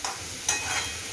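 Chopped tomatoes hit a hot pan with a sudden sizzle, then a steady faint frying hiss continues briefly.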